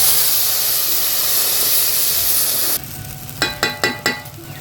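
Spices fry in hot oil for a chickpea, potato and chhana curry, a loud close sizzle that holds steady, then drops to a quieter hiss with four sharp scraping stirs of a spatula against the pan.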